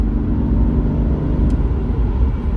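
Engine of a 2026 BMW 540i Legacy Edition accelerating at part throttle, a steady, loud low rumble from inside the cabin with no voices.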